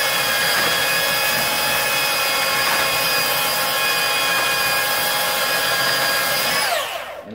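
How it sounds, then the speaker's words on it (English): A Ryobi P450 18V cordless belt sander running on wood, a loud steady whining motor hum with a high tonal drone that holds evenly for several seconds, then winds down as the tool switches off near the end. "So we're going to go ahead and sand this."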